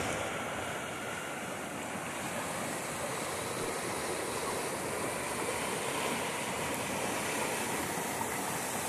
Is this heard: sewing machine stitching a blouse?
no